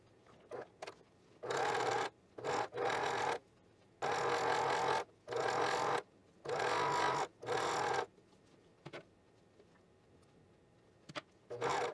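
A sewing machine stitches a sleeve seam on a knit top in several short bursts of steady whirring, close and loud, separated by quiet pauses with small clicks as the fabric is repositioned.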